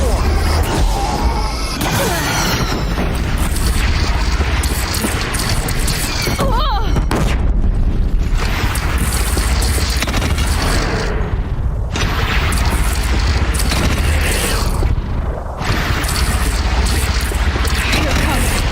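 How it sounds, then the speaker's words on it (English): Heavy booms and rumbling explosions from a Stormbird attacking a platform in Horizon Zero Dawn, a loud continuous barrage with a few louder impacts, while a voice talks over the action. "Stormbird! It's firing on your platform!"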